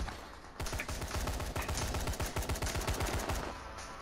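Rapid bursts of automatic gunfire from the zombie survival video game Dying Light, loud and close, a dense rattling stream of shots running almost continuously after a brief quiet opening.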